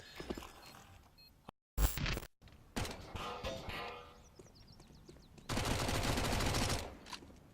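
Gunfire in a CS:GO professional match, with a Mac 10 among the weapons, comes as bursts of shots, abrupt silent gaps, and a long harsh stretch of rapid firing near the end, heard beneath a commentator's voice.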